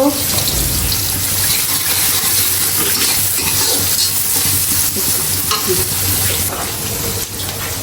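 Onions frying in oil in a large wok, loud and close with a steady crackling sizzle and constant stirring, sustained throughout and easing slightly toward the end.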